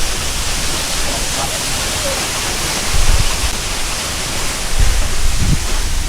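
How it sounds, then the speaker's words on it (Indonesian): Heavy, fast-flowing waterfall at Curug Cibeureum, a steady broadband roar of falling water that fills the whole clip, with a couple of brief louder gusts or splashes near the middle and end. "apalagi air terjunnya lagi deras-derasnya nih"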